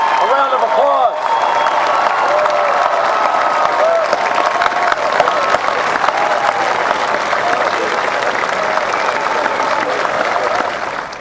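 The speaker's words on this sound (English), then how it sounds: "Ladies and gentlemen, let's give the new graduates a round of applause." A graduation audience bursts into loud, sustained applause for the new graduates, a dense wash of many hands clapping that fills a large hall and carries on steadily, with faint crowd voices underneath.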